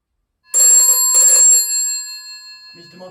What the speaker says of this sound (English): Mr. Motwood, the phone is still ringing.